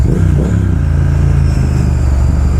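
Triumph Speed Twin motorcycle fitted with a Vance & Hines exhaust, a steady loud low engine rumble that holds evenly throughout, close and with no talking over it.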